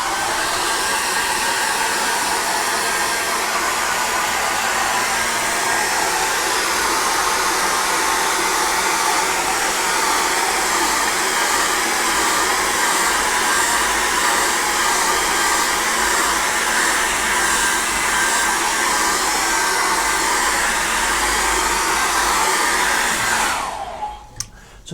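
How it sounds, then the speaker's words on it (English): A hairdryer blows steadily on a freshly worked acrylic landscape painting, a loud continuous whooshing roar held close for over twenty seconds before cutting off abruptly at the end. "And then we'll get the hairdryer on that."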